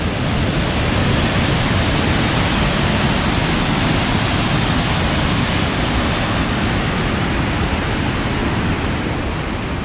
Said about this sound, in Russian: Вот он, верх самого водопада.